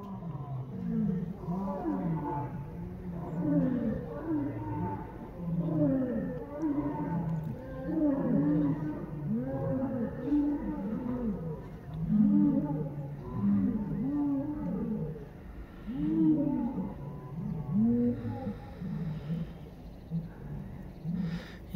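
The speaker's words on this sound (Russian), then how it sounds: "Вот мы слышим сейчас уже львиную перекличку." Deep, rhythmic lion roars repeat in a long series of grunting calls, several animals answering one another at a moderate distance.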